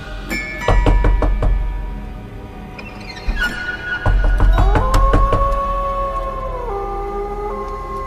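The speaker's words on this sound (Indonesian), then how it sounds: "Ketukan itu kembali terdengar." Sharp knocking on a mirror in a horror story, a quick run of hard raps early on, then another knock before an eerie wavering, siren-like tone sustains and bends downward.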